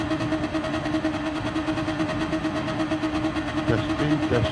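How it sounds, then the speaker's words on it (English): A car engine drones steadily in a driving game, a constant mid-level hum running throughout with a speaking voice partly over it. "So let me put some engine on."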